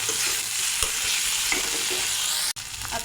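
Ginger, garlic, cumin and green chili paste frying with onions in a pan, a loud close sizzle with stirring scrapes, briefly cut off near the end before resuming.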